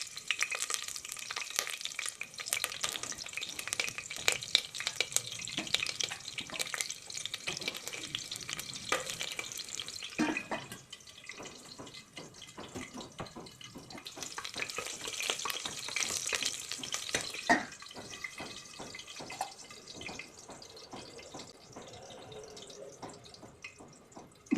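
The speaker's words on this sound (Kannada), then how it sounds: "ಗ್ರೀನ್ ಚಿಲ್ಲಿ ಫ್ರೈ ಆಗ್ತಾ ಇರಲಿ." Oil sizzling and crackling steadily as a single green chilli fries in a cooker for chicken biryani, close and continuous with occasional stirring scrapes and louder hissing bursts, no talking.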